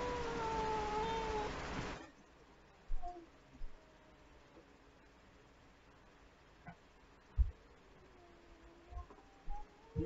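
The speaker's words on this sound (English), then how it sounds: "this is Cassie, my grouchy little cat" A grouchy house cat gives one loud, drawn-out meow up close, followed by near silence with a few soft knocks and rustles.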